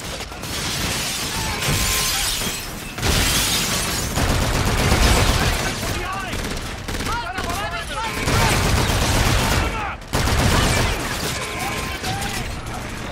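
Gunfire in the video game Call of Duty: Infinite Warfare, loud bursts of rapid shots and crackling impacts repeating in clusters over about thirteen seconds, broken by brief gaps, with voices talking amid the noise.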